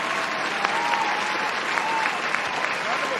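Canned applause sound effect played during a NASCAR season preview livestream, a sustained crowd clapping and cheering at moderate level with a faint voice underneath.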